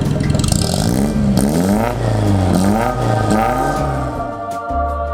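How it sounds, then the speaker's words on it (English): Classic Italian car engine revving hard through a custom stainless steel straight-through exhaust box, loud rising and falling revs repeated several times, close by with no talk. "this is actually a custom-made exhaust made from stainless steel. It's essentially a straight-through box, and we did it to amplify the wonderful, engine note."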